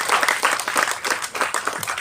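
Audience applause at a film launch event in Tamil Nadu, a steady wash of many hands clapping at moderate loudness with no voices over it.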